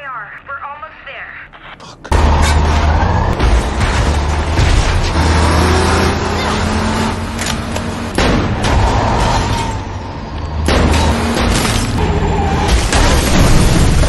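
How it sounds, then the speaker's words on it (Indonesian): A sudden loud boom as a truck skids into a house and its leaking fuel tank explodes in a video game, followed by sustained rumbling and crashing noise with a second heavy impact later; a voice talks over it. "Truk pun tergelincir ke arah rumah dan akhirnya meledak karena tangki bensinnya bocor."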